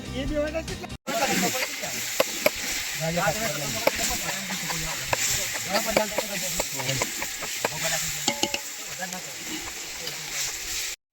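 Onions fry in a pot with ginger paste and spices, cooked outdoors in a field, giving a steady loud hiss and sizzle with scraping stirs, while people talk over it.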